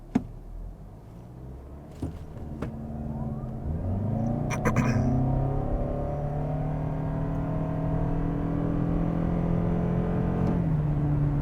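A 2023 Toyota Camry Hybrid XLE accelerating hard from a standstill in sport mode with traction control off, a rising engine and motor whir climbing steadily in pitch through several gear changes, heard from inside the cabin.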